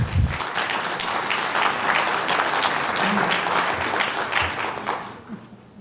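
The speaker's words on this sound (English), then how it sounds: "folks, thank you for your applause." City council meeting audience applauds Boy Scouts, a loud close burst of dense clapping that swells and then tapers off near the end.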